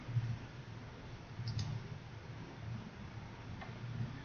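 A computer mouse is left-clicked and released during CAD work on a camshaft model, giving a couple of faint, crisp clicks close together and then one more after a pause, against a soft background hiss.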